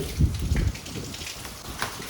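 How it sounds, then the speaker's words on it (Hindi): Light rain falls steadily outdoors, a soft, even hiss with a few slightly louder patters near the start and no voices. "आप देख ही सकते हो भाई बारिश पड़ रही है हल्की हल्की"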